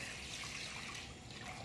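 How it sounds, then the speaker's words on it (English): Roughly three cups of water are poured into a microwave rice steamer holding a cup of rice, a steady, close, continuous splashing stream with no talking. "I'm gonna do about 3 cups of water."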